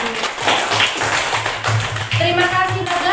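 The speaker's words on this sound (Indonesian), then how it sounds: "tepuk tangan dong untuk kelompok yang menanggapi" A classroom of students claps briefly for a presenting group, a short burst of scattered, uneven claps mixed with voices talking over it.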